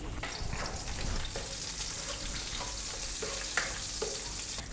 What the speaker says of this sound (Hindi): इन खड़े मसालों को हमने हल्का सा सौते कर लेना है।